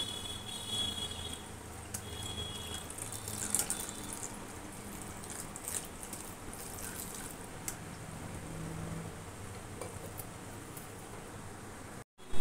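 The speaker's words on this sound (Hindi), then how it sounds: "और उसको ऊपर से थोड़ा ठंडा पानी डाल देंगे जिससे ये आपस में चिपके नहीं" Cold water pours over freshly cooked semolina noodles in a strainer, a steady, faint splashing hiss that runs evenly for several seconds before cutting off.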